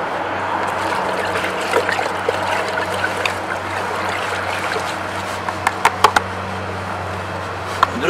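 Clean water poured from a container into a tree-planting tube in native soil, a steady close trickling splash with a few light knocks near the end.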